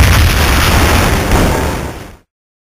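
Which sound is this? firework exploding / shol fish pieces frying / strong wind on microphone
firework exploding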